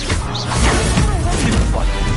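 In Hogwarts Legacy, an Incendio fire spell bursts with a loud, close roaring crash and whooshing flare that fills the whole moment, with game sounds layered beneath.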